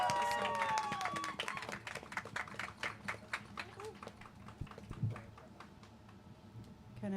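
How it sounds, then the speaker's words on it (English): At a panel talk on DIY club culture, a small audience claps for a best newcomer club prize: scattered, distinct claps that thin out over several seconds, with voices talking alongside them. "can we have a little applause for that?"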